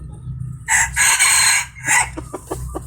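A young Thai game rooster crows nearby, one loud drawn-out cock-a-doodle-doo followed by a few short clucks over a low background hum.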